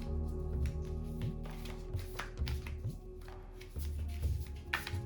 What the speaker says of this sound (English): let's just kind of shuffle them up